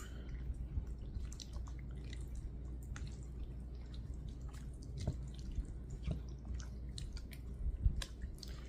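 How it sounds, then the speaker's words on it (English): A cornmeal and milk tamale pie mixture being stirred in a pot, with quiet, steady wet squishing and soft drippy clicks of the spoon throughout, close by but faint. "I'm going to stir this up."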